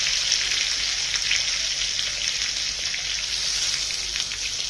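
Tomatoes and raw mango cook in a hot pan for chutney, a steady, close, bright sizzle and crackle running continuously without a break.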